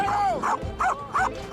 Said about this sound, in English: In training, this dog shows that it will do anything to protect its family.